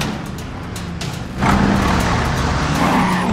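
Animated race cars launch at the start of a race with their tires squealing. A quieter engine hum surges suddenly into a loud, sustained screech and roar of skidding tires and engines.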